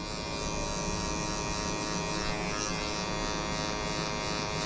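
An electric hair clipper buzzes steadily and loudly up close as it cuts hair during a French-style haircut, a continuous even motor hum with no talking.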